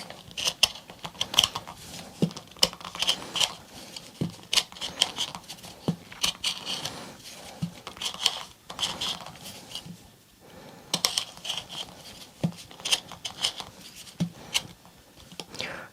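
A hand carving tool scrapes and nicks at the groove of a carved wooden shrink pot, a continuous run of small, close, clicky cuts with brief pauses between strokes.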